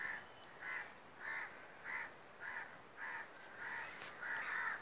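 Crows gathered near a fallen baby crow give repeated harsh caws in a steady series of about eight calls, fairly close and clear over faint background noise, with no talking.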